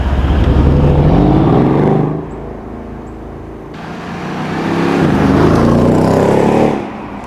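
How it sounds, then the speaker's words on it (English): A Mercedes-AMG E63 wagon with a V8 and standard exhaust roars loudly as it accelerates past, fades, then surges again before cutting off, with no talking. "the best thing on this car is the exhaust note"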